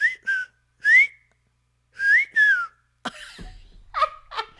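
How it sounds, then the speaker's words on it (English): Someone whistles a few short, breathy rising notes through their teeth, with pauses between, followed by a cough and rough breathy sounds. "So it's like whistling through like your teeth."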